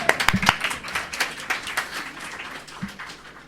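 A studio audience claps at a televised French debate on police violence, with scattered, uneven hand claps bunched near the start and a few lone claps later, fairly close and moderately loud.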